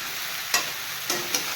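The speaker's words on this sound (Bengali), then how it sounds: "গ্যাস বাড়িয়ে দিয়ে আমি ভালো করে বেগুনটাকে সুন্দর করে লাল করে" Aubergine fries in a pan over a high gas flame, giving a close, continuous sizzling hiss broken by a few quick scrapes of a spatula stirring the pieces.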